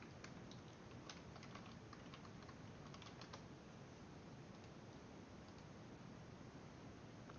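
Faint, quick key taps on a computer keyboard as a chat command is entered, a short burst of clicks over a steady hiss, then mostly background noise.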